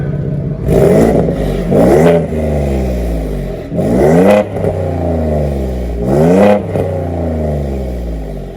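A Ford F-150 EcoBoost with an aFe Rebel exhaust revs hard three times in a row, each rev rising and falling with a deep, throaty exhaust rumble idling in between.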